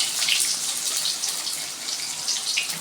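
Chopped onions frying in a hot kadai for a vendakkai kara kulambu, giving a steady, close sizzling hiss that holds without pause and with no voices.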